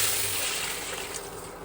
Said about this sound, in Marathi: आणि आता ज्या वाटीने आपण खवा मोजलाय त्याच वाटीने आपल्याला पाक बनवण्यासाठी पाणी टाकायचं.